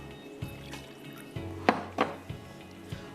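Quarter cup of water poured into a pan of pasta sauce made with coconut milk, giving a quiet pour with two brief splashy bursts over a low, steady kitchen hum.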